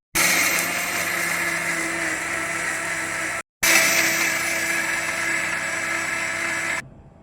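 A kitchen mixer grinds cucumber and grated coconut into Mangalorean dosa batter: a loud, steady motor whine and churning that stops briefly, starts again, and then cuts off.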